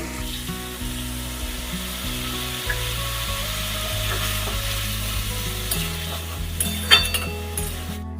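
Water poured into frying masala for a fish roe (macher dim) dish in a pan over a low gas flame, giving a steady loud sizzle with stirring scrapes and a sharp clink near the end.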